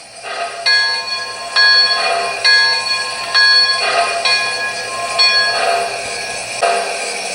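An MTH Union Pacific #119 model train's bell rings steadily, about ten evenly spaced clangs with bright ringing overtones, close and clear with a faint hiss beneath and no voices.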